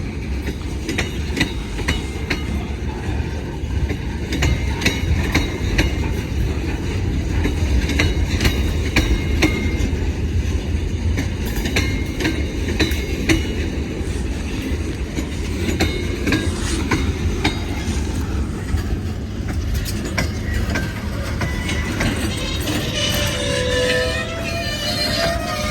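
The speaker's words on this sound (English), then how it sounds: "This train would have come from Greymouth." A train rolls steadily along the rails, wheels clacking and rumbling loudly and continuously, with a faint squeal toward the end.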